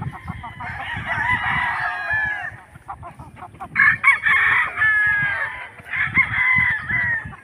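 Roosters crow loudly and chickens cluck at a poultry sale, with several overlapping calls rising and falling over a murmur of background noise.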